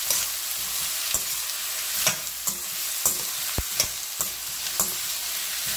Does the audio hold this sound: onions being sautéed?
yes